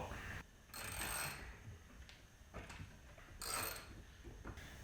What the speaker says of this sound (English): now we're going to be removing this bolt